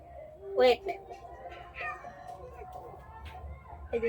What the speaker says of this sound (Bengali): এই যে শুনতে পাচ্ছ, শুনতে পাচ্ছ আমাকে ইশারা করে ডাকছে, মিয়াও